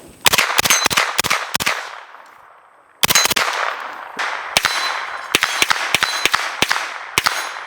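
An Omega 9K pistol caliber carbine fires loud, close shots with metallic ringing: a quick string of five rounds, a short pause, then another rapid burst of about eight shots that ring out over the echo.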